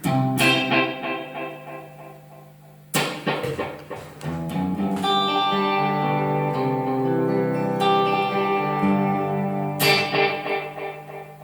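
Electric guitar notes ringing through an Echolette NG 51 tube tape echo, each strike trailing into repeating, decaying copies that build into a washy, sustained tail.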